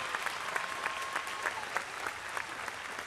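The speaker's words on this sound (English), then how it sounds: "Let's give her a round of applause" Applause from a commencement crowd at Fitchburg State University's 2015 undergraduate ceremony: a steady, fairly distant wash of many hands clapping, holding evenly for a few seconds.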